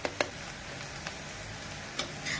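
Sliced onions sizzle in a pan as the base for dal tadka, a steady soft frying hiss broken by a few sharp crackles and taps, with no talk over it.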